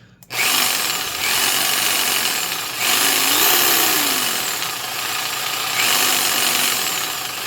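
A Porter-Cable PCE345 orbital jig saw running in bursts at changing speeds, a loud close whirring motor and cutting buzz that swells and dips across three long runs, no talking.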